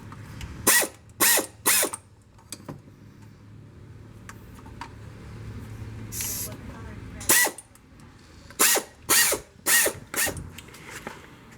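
A hand ratchet works on the bolts of a car's power steering pump during a rack and pinion replacement, producing several short bursts of rapid clicking separated by pauses, close up and fairly quiet.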